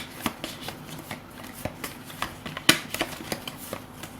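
Playing cards being shuffled up close, a quick run of soft, papery riffles and clicks with no voices.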